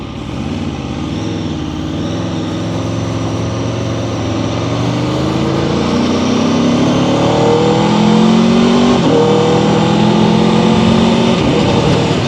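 A 2026 Aprilia RSV4 Factory sport motorcycle engine revs loudly and continuously, its pitch sweeping upward through gear changes with steady onboard roar and no talking.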